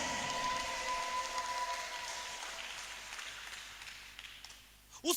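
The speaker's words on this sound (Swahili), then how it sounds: "Pigie Yesu makofi." A church congregation claps together for Jesus in a sustained, dense round of applause that fades slowly over several seconds.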